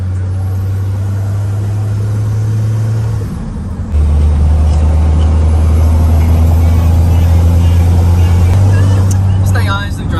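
A diesel truck drives along with a low, steady engine drone inside the cab, briefly dipping and then resuming, with people talking over it.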